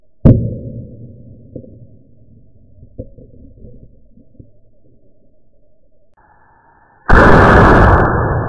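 A rifle fires at water jugs with RIP .40 ammunition: one sharp, close shot cracks at the start, then a low, quiet rumble follows, and a loud, rough burst of noise fills the last second and a half.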